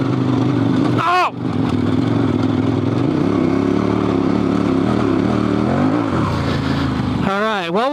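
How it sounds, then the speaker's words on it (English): An adventure motorcycle on Heidenau K60 Scout tires climbs a dirt hill in second gear. The engine is loud and close, droning and straining with pitch rising and falling as traction is lost and regained, plus brief whooshes of wind and clatter. "The bike had to work pretty hard in order to refine or regain that traction."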